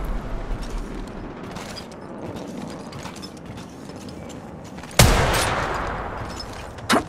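Gunfire in the mobile battle royale game Apex Legends Mobile: mostly subdued mechanical clatter and faint bursts, then one loud sharp shot that rings out and decays, and a second short crack near the end.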